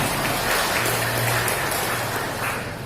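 Dense, loud applause from a crowd gathered for a Batak community leader's speech, a continuous rain-like roar of many hands clapping at once.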